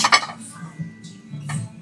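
Ceramic plates are handled on a store shelf, giving a few light clinks and knocks close by, with soft background murmur.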